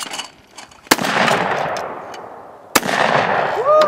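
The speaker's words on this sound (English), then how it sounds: "nice shooting, Jay." Two loud, sharp shotgun blasts at a clay shooting event, each followed by a brief echoing tail, with outdoor background noise and a faint voice near the end.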